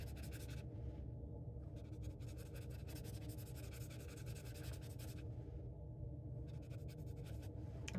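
A paintbrush sweeps watercolor ink across paper in soft, scratchy strokes that come in bursts with short pauses between, close and quiet against a low background hum.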